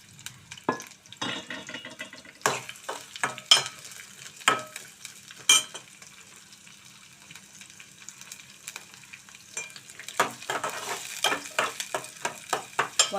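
Chopped onion and green chillies hit hot oil in a pan for a brinjal curry, giving a steady close sizzle broken by scraping stirs and clinks of a spoon.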